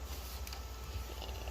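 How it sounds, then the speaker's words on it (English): A new air conditioning unit runs indoors with a steady low droning hum and faint airy hiss, continuous and even throughout. "it's Penny's new AC thing"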